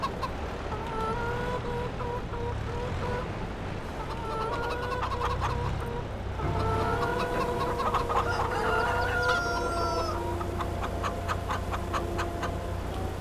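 Chickens clucking and squawking in a farmyard, a dense, steady chatter of many birds close by, with occasional louder calls rising over a constant low rumble.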